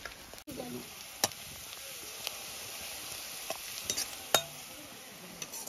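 A tadka sizzles for a cauliflower and carrot vegetable curry on a village clay stove, a soft, steady frying hiss broken by a few sharp clinks and stirring knocks.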